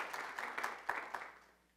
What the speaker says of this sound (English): Please give a warm round of applause to Martin Robinson.